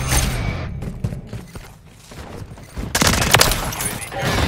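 Gunfire in the Call of Duty Modern Warfare 3 multiplayer match on the Terminal map, bursts of shots and impacts, a busy opening, a brief lull near the middle, then a dense loud volley toward the end.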